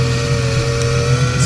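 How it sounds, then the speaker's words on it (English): A boat motor idles steadily while the boat sits fishing offshore, a low, even engine hum held close and constant throughout. "you're probably wondering why I leave the motor running"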